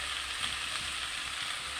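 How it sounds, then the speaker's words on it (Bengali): Taro, pumpkin, potato and tomato fry together in a pan while being stirred, giving a steady, close, even sizzle with faint scraping from the stirring. "কচু আর কুমড়ো, আলু একসঙ্গে, টমেটো একসঙ্গে ভালো করে নাড়িয়ে নিচ্ছি।"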